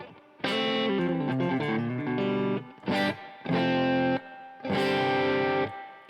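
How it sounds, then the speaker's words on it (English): Electric guitar through a Marshall-style amp with a crunchy, overdriven tone playing chords and a short riff in several bursts separated by brief silences. "now you're hearing the guitar through a Marshall style circuit"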